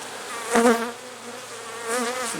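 Honeybees buzz around an open hive while frames are inspected, a steady close drone with one louder burst of a bee passing near, then a second swell toward the end.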